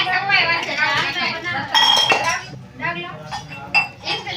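Plates of freshly fried bhajiya being set out: bright clinks of dishes and cutlery ring out against each other several times, close and loud, while people chat around them.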